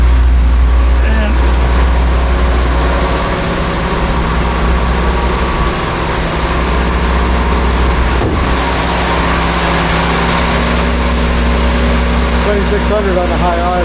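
A 1976 BMW 2002 with a carburetor engine runs steadily at high idle, a loud close continuous low hum and drone, with a voice talking intermittently over it.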